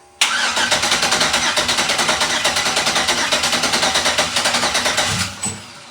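An aluminum 6.0 LS V8 on a test fire cranks and catches, then settles into a loud, fast, high idle with steady rhythmic pulses for about five seconds before cutting off abruptly.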